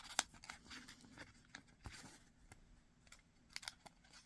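Origami paper being pressed and squashed flat along its creases, with soft, close crinkles and small crisp rustles scattered irregularly at low volume.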